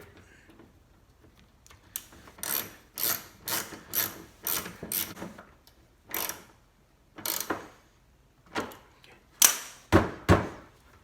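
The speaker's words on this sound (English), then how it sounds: "And we're going to install this screw back in." Screw being driven back into a 2010 Hyundai Accent bumper by hand, heard as a series of sharp ratcheting clicks in short bursts, close and fairly loud, with no talking.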